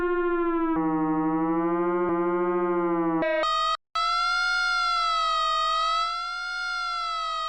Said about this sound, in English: Or like an interesting sound that has this very like spooky industrial feeling to it.